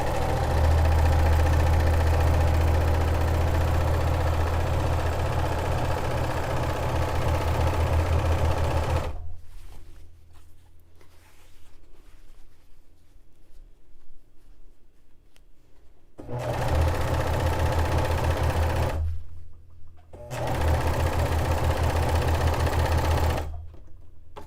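A serger overlock machine stitches bed-sheet fabric for a dress, running in long, loud, steady buzzing bursts at close range, stopping twice for quiet pauses with light handling noise before starting again.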